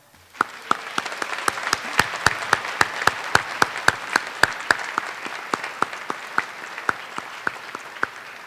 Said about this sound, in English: So how about a round of applause for our advisors?